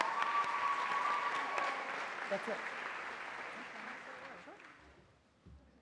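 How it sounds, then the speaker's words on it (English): Audience applause at a 2014 award ceremony honoring a team, a dense wash of clapping that fades over several seconds while a voice speaks briefly near the end. "Another round of applause."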